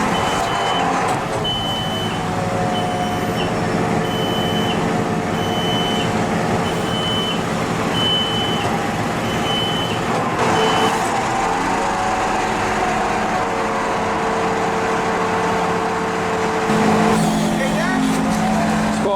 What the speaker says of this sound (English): here's a clip of him delivering it on his loader thing.